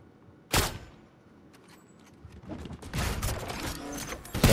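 Turret gunfire in an online shooter match, a burst of rapid shots beginning with a sharp loud crack, then a dense stretch of firing that builds toward the end, with no talk over it.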